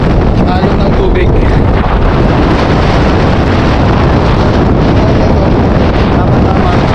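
Strong wind buffets the microphone beside choppy water, a loud continuous broadband roar that stays steady throughout with no clear voices.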